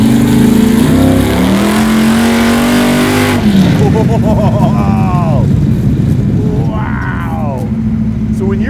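An 800 hp blown big block Chevrolet Camaro revs hard with a rising scream, then drops to a loud rough idle rumble, while people talk over it.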